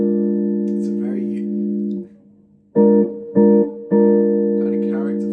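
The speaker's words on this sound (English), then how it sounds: "It's the sound of a dominant 7th chord with the flat 7 as the lowest note rather than the root." Guitar strums a dominant 7th chord voiced with the flat 7 as the lowest note, ringing sustained, then three sharp restrikes in quick succession with the last left to ring, loud and close.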